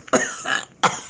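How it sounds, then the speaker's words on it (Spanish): Two hard, harsh coughs from a man, close and forceful, separated by a rough, raspy throat-clearing sound, all within about a second. "dijo el médico tosiendo con fuerza, luego aclarándose la garganta"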